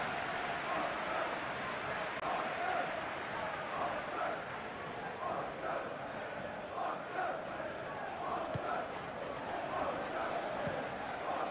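Stadium crowd noise from a Premier League match between AFC Bournemouth and Manchester City in the video game PES 21, a steady roar and chanting heard throughout, under continuous commentary.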